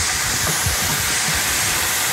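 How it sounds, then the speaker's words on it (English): Beef frying in a pan with Kikkoman soy sauce gives a steady, loud, broadband sizzle and hiss that fills the whole stretch with no voices. "Here the sizzling from the kikkoman."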